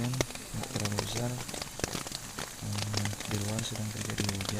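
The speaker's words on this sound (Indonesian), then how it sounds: "Di luar sedang terjadi hujan." Rain falls outside during a hike on Mount Lawu, a steady patter under a voice speaking throughout.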